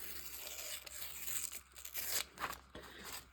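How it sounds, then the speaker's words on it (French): Sticker sheet torn by hand during a winter garden collage, a few short ripping bursts with crinkly paper rustle, close and fairly quiet. "je vais venir déchirer"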